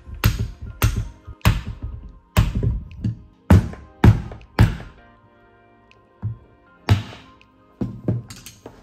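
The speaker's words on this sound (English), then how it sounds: "Next, I have a screwdriver and a rubber mallet. See if I can kind of like knock this up" A series of dull, solid knocks, about a dozen in irregular bursts, close by, a rubber mallet striking the housing of a QS138 90H electric motor, with brief pauses between.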